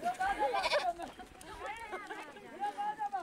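Goats bleat repeatedly in a valley, several loud, close, wavering cries overlapping one another, with a few brief bursts of movement and chatter among them.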